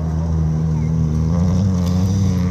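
Race car engine held in high gear during a women's and veterans' B-final race at Likenäs, a loud steady droning roar close by with little change in pitch.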